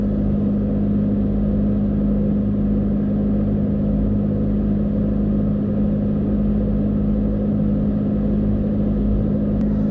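Cabin drone of a 2017 third-gen Toyota Tacoma TRD Off-Road with an MBRP turndown exhaust cruising on 33-inch tires, a steady, loud low rumble holding an even pitch throughout with no talk.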